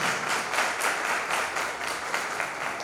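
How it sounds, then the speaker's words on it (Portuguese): Steady applause during a church service, many hands clapping at once, a dense continuous patter filling the whole stretch with no voices. "Dê um aplauso, Senhor, pelas nossas vidas."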